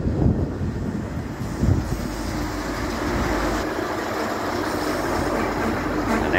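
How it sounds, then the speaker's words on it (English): A Doodlebug railmotor rumbles past nearby at Hastings Station, Victoria, with a steady low roar and some wind buffeting in the rain, continuous throughout. "Gazy, you got your own train, mate."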